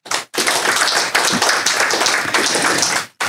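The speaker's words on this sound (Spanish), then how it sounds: "Den un aplauso al Señor" Church congregation applauding together, a dense, steady burst of many hands clapping that fills nearly the whole stretch, starting abruptly and cutting off near the end.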